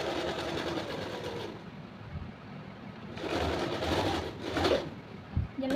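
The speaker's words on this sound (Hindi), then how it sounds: "ये हमने डबल सिलाई लगा दिया" An electric sewing machine runs double stitching along a kurti, its fast rattling hum starting and stopping in short bursts with brief pauses, faint and close.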